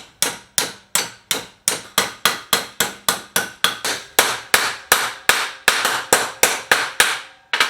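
A hammer strikes a hole punch on a metal bracket in a garage, about two dozen sharp, ringing metallic blows in a steady, fast rhythm, loud and close with no voices.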